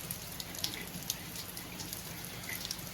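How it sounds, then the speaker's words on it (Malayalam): Steady rain patters down with scattered drops tapping a surface, a continuous wash of noise with no voices. "നല്ല പെരിഞ്ഞ മഴ പെരിഞ്ഞ മഴ"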